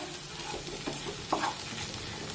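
Soft scraping and stirring of a dry potato curry in a wok over a quiet sizzle, with a few light clinks of a spoon against metal.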